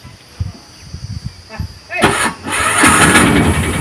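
An auto rickshaw engine starts after a stretch of quiet talk, catching into a loud, steady running rumble that carries on to the end.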